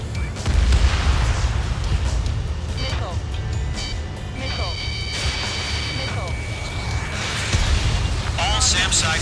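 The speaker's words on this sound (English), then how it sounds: "Page 2, missile launch." In the jet combat game Ace Combat 7, a missile launch brings deep booms and rumbling explosions over steady engine roar, with radio chatter from voices running over the action.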